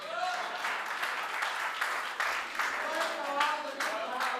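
A live audience at a Hindi speech event claps steadily and densely throughout, with a voice talking over the applause.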